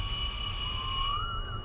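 An electronic doorbell chime rings in Fortnite, giving a steady, bright tone that holds for over a second and then glides slightly upward before fading. The chime is loud and close with no speech.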